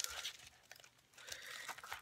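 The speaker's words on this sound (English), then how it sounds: "So let me pull this open, or rip this open, or cut it open" A package is torn open by hand: a couple of seconds of close crinkling, ripping and crunching of wrapping, with no voice.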